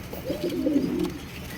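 A pair of jet-black Beauty pigeons coo at a farm, a low soft burbling coo rising and falling for a second or so, close by and moderately quiet over a faint background hum.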